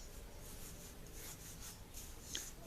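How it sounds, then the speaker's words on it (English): Sand being sifted through a screen for metal casting, a steady soft granular rustle running throughout at a constant moderate level, with one brief faint tick near the end. "Just sifting some sand again."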